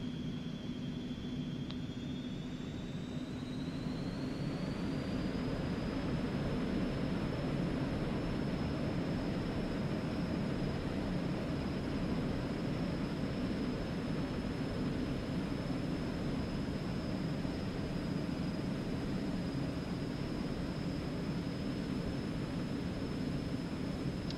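Aerobask Eclipse 550 NG jet in X-Plane 11 rolling for takeoff, a steady loud engine roar with a high whine that climbs in pitch early on, then holds constant and unbroken for the whole stretch.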